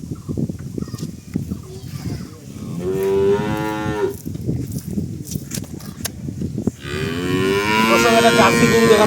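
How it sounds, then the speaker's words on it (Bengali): A Jersey cow on a farm in Dinajpur moos several times in long, drawn-out lowing calls, fairly close and loud, with quieter farmyard noise between them. "আপনাদের সামনে আমি একটা জার্সি গরু দেখাচ্ছি"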